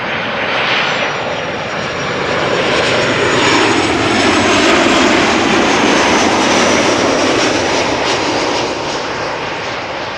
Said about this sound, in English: KLM flight 1042 arriving from Birmingham up next.